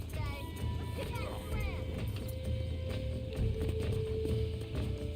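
Horse hooves clip-clopping at a steady run in Red Dead Redemption during a horse-breaking session, over a continuous low rumble of game ambience and music.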